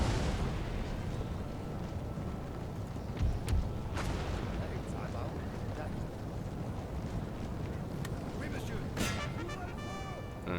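Cannon artillery fires a volley in Napoleon Total War, heard as several distant booms and sharp reports scattered across a busy battlefield din of hooves and crowd noise, fairly faint overall.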